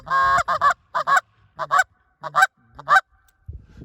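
Short reed Canada goose call blown in an aggressive murmur, a close, loud series of quick doubled honks in rhythmic clusters with brief pauses between them, heard alone.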